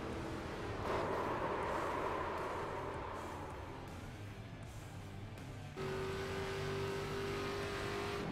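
ARCA stock car engine heard on board in iRacing at Pocono, a steady loud drone that eases off, then shifts to a sustained higher engine note after a gear change, with no talk.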